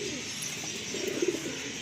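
A male loft pigeon coos a couple of soft, low throaty notes close by, set against a steady background hiss, with no talk over it.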